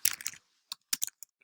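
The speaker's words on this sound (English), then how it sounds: "we can type little updates or things like that" A computer keyboard is typed on in a short flurry of quick, close clicks, then a few scattered single key taps spaced apart, all fairly quiet.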